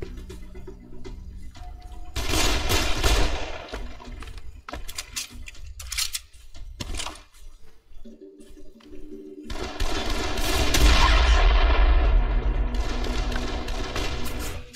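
Bursts of rapid gunfire in the video game Dead Island crackle in loud volleys separated by quieter gaps, with metallic clinks and thuds between them.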